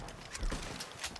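Faint, quick horse hooves clip-clop in a video game, a few soft hits over about a second, with no talk over them.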